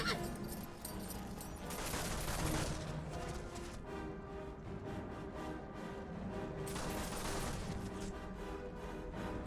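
A gunfire volley in Warhammer: Mark of Chaos, with crackling musket-like bursts around two and seven seconds over a bed of battle noise and music.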